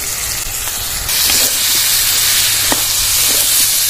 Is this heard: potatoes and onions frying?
yes